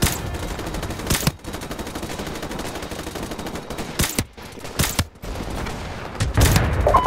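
Rapid machine gun fire in the video game Call of Duty rattles in long, loud bursts, broken by a few short pauses, over a steady background of battle noise.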